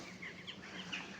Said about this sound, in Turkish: Bak kargalarımız da ötüyor.